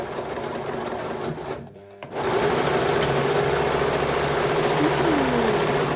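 An overlocker serger runs steadily to clear the threads from its chain, a loud continuous mechanical whir with a brief pause near the start before the motor picks back up and keeps going.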